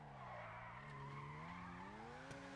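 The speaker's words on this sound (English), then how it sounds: "Nice handbrake turn." A car in GTA Online screeching through a handbrake turn, a long, loud, wavering tire squeal with a rising and falling tonal whine over steady engine noise.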